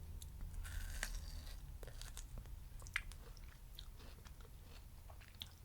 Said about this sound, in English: Has a nice crispy crunch to it.